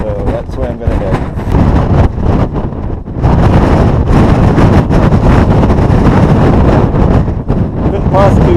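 Strong wind buffeting the microphone on an alpine mountain trail, loud continuous roaring gusts throughout, with someone speaking briefly beneath the noise.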